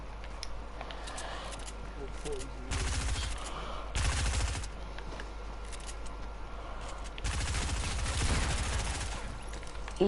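SMG fire in Fortnite comes in several rapid bursts of sharp, close shots, separated by brief pauses, with game sounds and a player talking over it.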